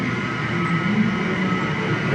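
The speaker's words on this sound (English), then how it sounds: "Here comes our subway." A Washington Metro Blue Line subway train pulls into Pentagon City station with a loud, steady rumbling roar and a faint metallic whine from the wheels.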